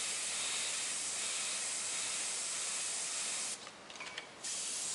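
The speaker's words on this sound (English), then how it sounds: "I kind of pull off to the side and then spray off to the one edge." Spray paint hisses out of an aerosol can across a stencil edge, a steady broad hiss that runs nearly five seconds with a short stuttering break near the end before resuming.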